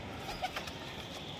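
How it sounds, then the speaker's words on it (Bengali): A Punyabela pigeon coos softly, with a few faint murmuring notes in a quiet, steady background and no talking. "এটা পুণ্যবেলা পায়রা।"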